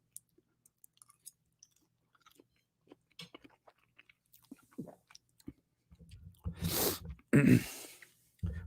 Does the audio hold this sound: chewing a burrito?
yes